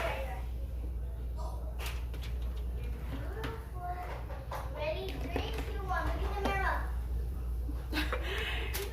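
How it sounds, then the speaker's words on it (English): Children chatter and call out in the background, with occasional shuffling and small laughs over a steady low hum. "Sorry if you can hear the kids in the background"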